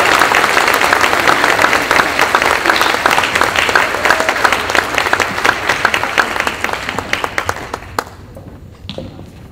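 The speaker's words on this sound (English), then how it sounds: "So give them one more round of applause." Sustained audience applause for a saxophone quintet at a cabaret show, dense clapping from a crowd that holds steady for several seconds, then thins out and fades near the end.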